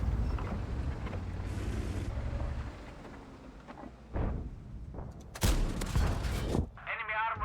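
A World of Tanks T28 tank gun firing at a Pantera: a low engine rumble gives way to several sharp, loud cannon blasts in quick succession near the end, followed by a short warbling game cue.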